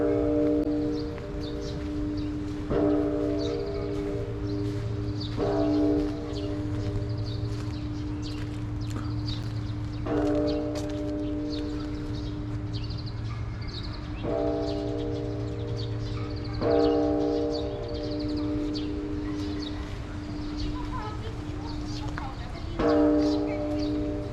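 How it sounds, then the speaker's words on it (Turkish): A large bell rings out in Osaka, Japan, struck again and again at slow, fairly even intervals. Each loud stroke leaves a long, ringing tone that fades over steady outdoor background noise. "10 dakikadan beri çan çalıyor"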